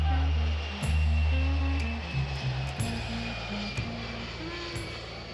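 Airliner engines drone steadily at an airport, a broad rumbling roar with shifting low tones. Music plays underneath it, and the noise stays fairly loud throughout.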